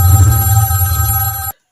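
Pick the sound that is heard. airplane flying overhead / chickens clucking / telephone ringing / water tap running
telephone ringing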